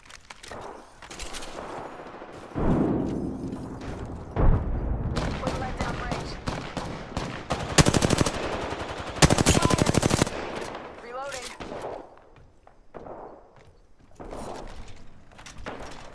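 Apex Legends gunfire: repeated rapid automatic bursts and single shots, loud and close, mixed with game action noise and occasional voices.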